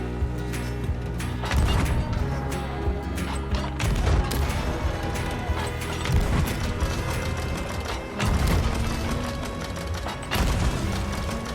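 Cannon and gunfire aimed at an enemy brigantine in Sea of Thieves, a dense, loud barrage of booms and sharp cracks mixed with clanking mechanical sounds, running continuously with heavier bursts near the start and end.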